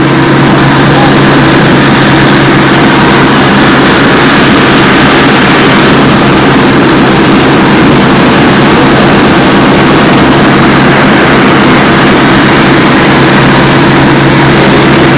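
A loud, steady engine drone with a deep, throbbing low hum runs unbroken throughout, from an old diesel boat engine running close by.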